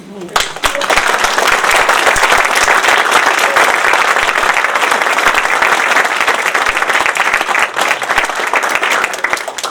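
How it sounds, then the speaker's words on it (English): A large audience at a college nursing white coat ceremony applauds loudly and continuously, dense clapping that holds steady for several seconds. "So, one more big round of applause."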